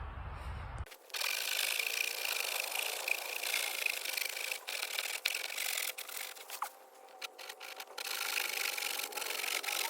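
A hand saw cuts wood at a primitive wilderness camp, with continuous rasping strokes running close and steady after a brief thump at the start, with no talking.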